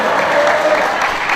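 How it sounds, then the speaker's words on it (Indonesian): Applause from a congregation inside a mosque during an Eid al-Adha gathering: a steady, dense wash of many hands clapping continuously, close and fairly loud, with no distinct voices. "Baru saya kali ini melihat di masjid ada tepuk tangan"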